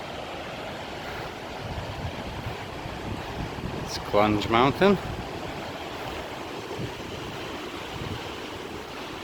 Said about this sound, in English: Here I am at the corner of the river where the white water ends.